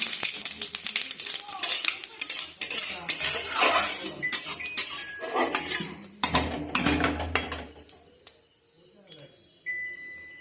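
Cumin seeds and bay leaf go into a hot pan and crackle, with lively clinks of utensils against metal and stirring over a continuous sizzle, while a person talks intermittently.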